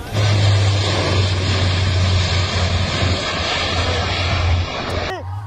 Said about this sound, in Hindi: 15 लड़ाकू विमान जो आज गंगा एक्सप्रेसवे पर गरजे।